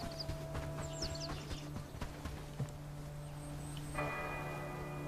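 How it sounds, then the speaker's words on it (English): A bell tolls in the medieval village-building game Bellwright, quiet ringing tones with soft ticking, bird calls and a steady low hum of game ambience underneath. "Yeah, you can ring the bell."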